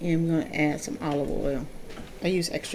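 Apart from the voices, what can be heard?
None of the usual background noises is heard.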